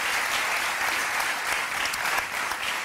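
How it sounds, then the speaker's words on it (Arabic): Warm audience applause in a television studio show, honouring rural Moroccan women, a dense burst of clapping from the crowd that holds steady with a few sharper claps standing out. "تصفيقة حارة عليهم"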